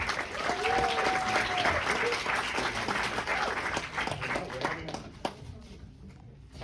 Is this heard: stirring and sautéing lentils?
no